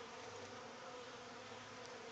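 Bees coming and going at a second hive, likely a lost swarm, a continuous soft buzzing hum of many insects close by with no distinct individual passes, quiet and steady.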